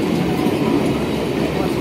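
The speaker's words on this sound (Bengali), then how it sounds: "দেখো ট্রেন চলছে দেখতে পাচ্ছ" A local train runs steadily close by, its broad rumbling roar and rail clatter filling the space without a break, with no voices on top.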